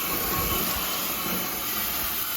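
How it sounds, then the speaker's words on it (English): Brake fluid sizzling on the hot exhaust of an MGB car that sat unused for ten years, a steady close hiss with faint background noise. "Ooh, you hear it sizzle. Yeah, it's hitting the exhaust."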